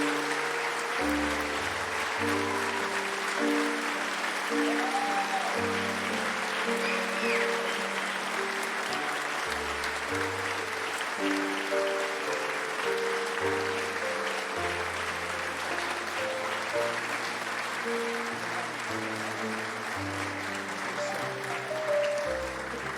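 Sustained applause from a crowd at a Holocaust memorial ceremony honoring survivors, steady and dense throughout, with musical tones sounding beneath it.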